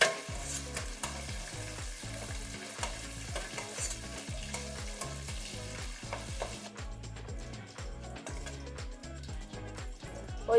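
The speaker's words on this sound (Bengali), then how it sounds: "ওই তেলেই আলু কাটা ভেজে নিচ্ছি।" Pieces of potato fry in hot oil with a constant crackling sizzle, and a spatula scrapes and stirs them over and over in a steady, busy rhythm, close and unaccompanied by speech.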